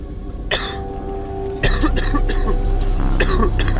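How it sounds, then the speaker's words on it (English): A man coughs several times in short, harsh bursts close to the mic, with a low background hum that gets louder partway through; no speech. "has a nasty cough today"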